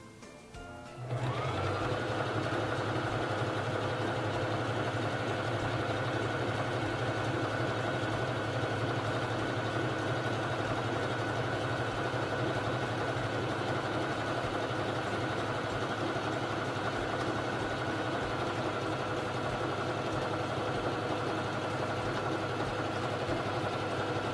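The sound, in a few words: Singer Fashion Mate 3333 sewing machine sewing feather stitch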